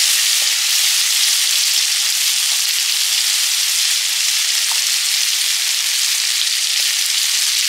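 Chopped onions fry in hot oil and ghee for prawn malaikari, a steady, loud, close sizzle that holds without a break and carries a few faint clicks.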